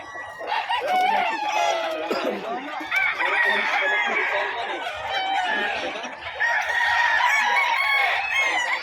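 Several fighting roosters at a livestock market in Bocaue, Philippines, cluck and squawk agitatedly nearby, with crowing mixed in and some talking in the background, continuous and loud throughout.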